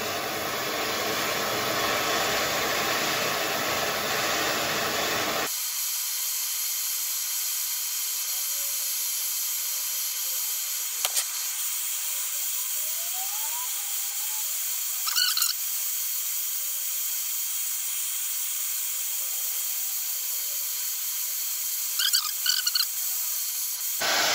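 Orcamp blow gun torch flame roars as a loud broadband hiss for several seconds, then drops to a quieter, steady high-pitched hiss while heating metal, with a few faint clicks.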